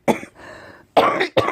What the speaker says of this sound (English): excuse me with this cough